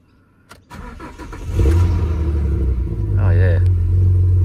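A Ford BA Falcon ute with a manual gearbox cranks over briefly, then fires up and settles into a loud, deep, rumbling idle before a rising rev, heard close by.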